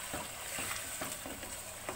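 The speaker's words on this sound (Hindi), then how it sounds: "वो ऐड कर देंगे और इसको अच्छे से भूनेंगे" About 750 grams of washed chicken frying over high heat for Sindhi biryani, giving a loud, steady sizzle with dense crackle and occasional stirring scrapes, close and continuous.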